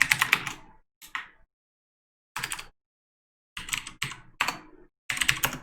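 Rapid key clatter from a computer keyboard as an ad caption is typed, arriving in short bursts of clicks separated by quiet pauses, close and clear with no voices.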